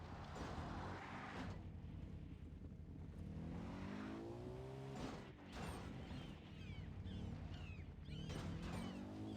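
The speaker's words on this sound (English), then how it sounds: "This is actually like a point-to-point race. So it's very easy to lose control of your car." A car races point-to-point in the video game Far Cry 3, its engine whining and shifting pitch through gear changes with mechanical rattles and brief skids, fairly faint and steady.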